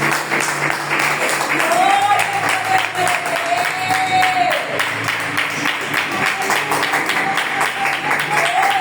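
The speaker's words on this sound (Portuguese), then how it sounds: "você aplauda Jesus" A church congregation claps and cheers through a Portuguese-language worship service, a dense sustained crowd applause with a faint voice or tone rising above it, lasting the whole stretch.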